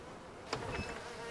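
Bees buzzing around hive frames in a video game base, a soft continuous insect drone with a faint whir passing through partway, quiet and without voices.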